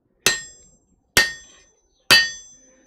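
A hammer strikes metal in a smithy, three sharp ringing blows spaced about a second apart, each decaying with a bright metallic ring, close and loud with no talking.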